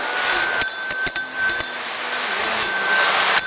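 Bells ring repeatedly during a guided meditation session, with bright sustained tones and several sharp struck onsets spread across the passage, fairly close and clear with no talking.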